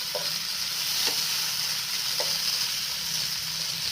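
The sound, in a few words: chopped onion frying in oil, being stirred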